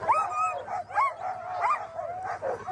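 At the start of the Kuskokwim 300 sled dog race, dogs from a racing kennel let out a string of excited yips, whines and short barks, close and fairly quiet, with a faint voice in the background.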